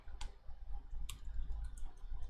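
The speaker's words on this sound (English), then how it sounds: "You cannot see what I'm typing right now" Scattered soft clicks come from typing on a computer keyboard during a lecture, a few keystrokes spread across a low, steady background hum.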